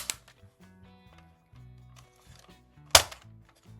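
A winged Nerf toy gun fires with a sharp snap near the end, another at the start, over quiet low background tones.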